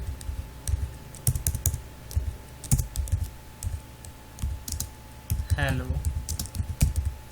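Fast, steady typing on a computer keyboard while writing a C program, with dense close key clatter throughout and someone briefly speaking over it.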